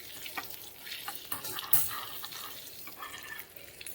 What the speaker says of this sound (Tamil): லைட்டாக பெருங்காயம் போட்டுட்டு இது அப்படியே நல்லா ரோஸ்ட் பண்ணிக்கோங்க.